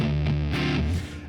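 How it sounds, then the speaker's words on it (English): Electric guitar with high-gain distortion played through an Orange amp and British 4x12 cabinet on the neck pickup, a thick, muddy blues-rock riff with sustained chords shifting pitch, loud and close with no talking. "I would say it sounds really cool with a high gain distortion"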